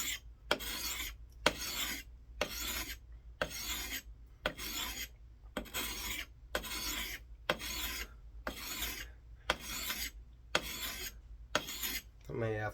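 A new camp axe edge is sharpened with a sharpening stone, about a dozen evenly spaced gritty rasping strokes, each a short scrape followed by a brief pause, close and steady with no talking.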